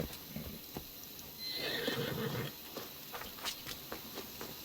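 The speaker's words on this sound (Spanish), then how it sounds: "Vamos a dejar al caballo." A horse neighs in the video game Assassin's Creed Discovery Tour: Ancient Greece. One drawn-out whinny rises mid-clip over a quiet outdoor ambience, with a few soft thuds and clicks before and after.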